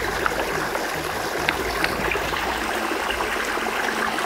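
Water pours from a collapsible bag through a Sawyer filter in a steady, continuous trickling stream, close and fairly loud, with no talking over it.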